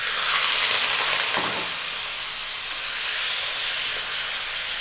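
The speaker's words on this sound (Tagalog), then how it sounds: "Okay, so a little bit of oil into a nice hot wok. The marinated meat goes in." Marinated goat meat sizzles and spits in hot oil in a wok, a loud, steady frying hiss with a sharper burst near the start as the meat hits the pan.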